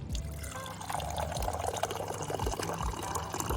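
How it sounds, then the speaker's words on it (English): Water pours into a glass in one continuous stream, close and clear, the gurgling fill rising briefly before a steady splash. "Here is some water ASMR."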